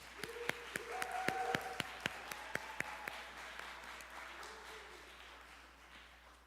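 A small audience gives scattered, sharp claps for a presenter at an evening women's gathering event, with voices murmuring underneath as the applause thins out and fades.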